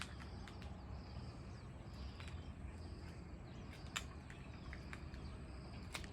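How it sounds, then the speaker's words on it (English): Faint birds chirping in the distance outdoors, with short scattered calls over a quiet background hum. "You hear the birds."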